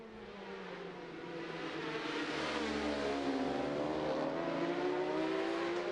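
A racing motorcycle at the Macau Grand Prix street race approaches and sweeps past. Its engine note swells and rises in pitch under hard acceleration, growing louder and nearer over several seconds.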